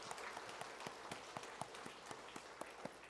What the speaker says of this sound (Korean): 큰 박수로 한번 격려하겠습니다.